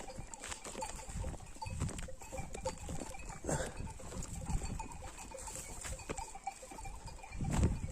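A flock of sheep spread across a hillside gives overlapping bleats, mostly distant and faint, with scattered calls over a soft outdoor background and no talking.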